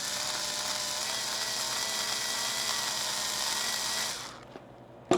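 An electric drill bores a hole to mount a rear bike light, a dense, steady whine and grind running for about four seconds before cutting off, followed by a brief clatter.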